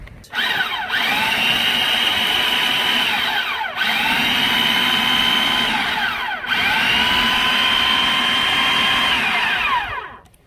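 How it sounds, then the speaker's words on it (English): A food processor pulses Kvaroy salmon in three loud whirring bursts, each spinning up to a steady high whine and then cutting off briefly before the next. "let's go ahead and add the Kvaroy salmon to the food processor"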